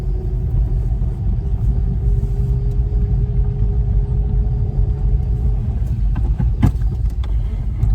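An electric car fitted with a five-speed manual gearbox pulls away slowly, giving a steady low rumble and a faint rising whine, with a couple of brief knocks near the end and no talk.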